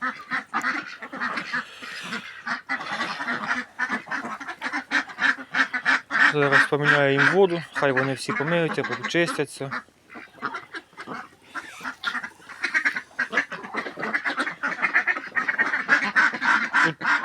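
Young ducklings being released into a flock quack and honk continuously close by alongside older ducks or geese, with someone talking over the din.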